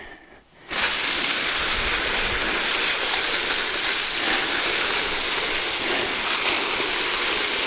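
Water poured steadily over soil and mulch around the base of a tree in a Back to Eden garden, a continuous close splashing and trickling that runs unbroken after a brief quiet start.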